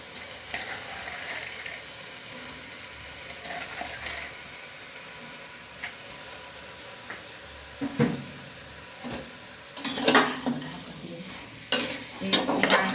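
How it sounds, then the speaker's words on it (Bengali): Soaked chickpeas go into a pan of pumpkin curry, with soft frying sizzle, a few clattering drops and stirring clinks that build near the end, close and without talk. "ছোলাটা ধোয়া আছে, ভিজিয়ে রেখেছিলাম রাত থেকে, ছোলাটা দিয়ে দিচ্ছি।"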